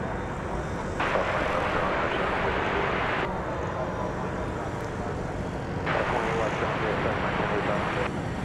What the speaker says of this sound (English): And here's American Flight 2335, pardon me, arriving from Albuquerque, New Mexico.